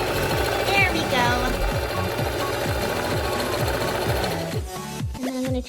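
Singer Prisma Heavy Duty sewing machine stitching at a fast, steady mechanical rhythm, close and loud, with someone talking over it before the needle slows and stops near the end.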